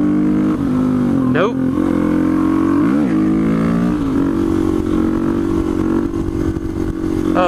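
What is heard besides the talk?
supermoto motorcycle accelerating, shifting third to fourth gear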